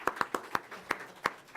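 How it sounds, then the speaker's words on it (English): Sparse clapping at a U.S.-Mexico border conference: a handful of distinct, sharp claps at uneven intervals, fairly close, over a quiet room background. "I think we should begin with a round of applause for Chris,"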